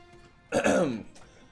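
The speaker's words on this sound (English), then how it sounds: "clearing his throat as the doors swing open" A single gruff throat clearing, loud and close, lasting about half a second against a quiet background.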